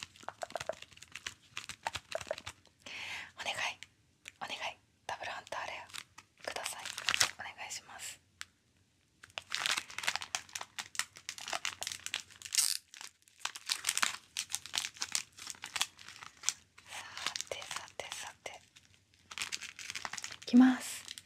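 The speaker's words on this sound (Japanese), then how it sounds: "今日はちょっと先にこのゴンの表紙のパッケージの方から開けていこうかなと思います" A Hunter x Hunter wafer package wrapper crinkles close up in repeated rustling, tearing bursts, interspersed with soft whispered talk and brief quiet gaps.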